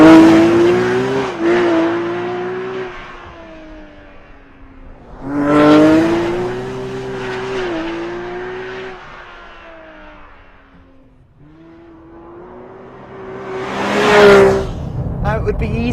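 A Porsche GT3 RS or Ferrari 458 Italia sports car drives hard, its engine revving and pulling through gears in long rising sweeps that drop back between shifts, loud and close throughout.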